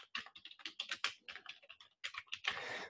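Fingers type on a computer keyboard in a rapid, uneven run of close, crisp keystrokes with a brief pause, no speech.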